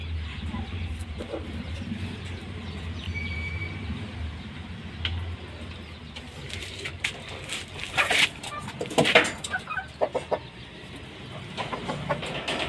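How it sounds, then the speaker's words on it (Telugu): A laying hen clucks repeatedly just after laying an egg, loud bursts bunching in the later half over steady outdoor background noise, with no talk. "మన కోడి ఇది గుడ్డు పెట్టేసింది సుషిరా."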